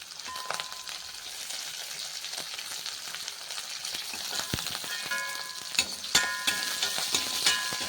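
Onions frying in a pan for Chettinad-style beans poriyal, a steady loud sizzle with occasional stirring clinks and scrapes growing sharper toward the end, no voices.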